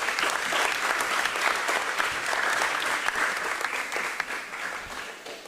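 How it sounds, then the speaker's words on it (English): An audience at a debate gives both teams a sustained round of applause, with dense, steady clapping from many hands that fades slightly toward the end, with no speech over it. "let's give them a round of applause"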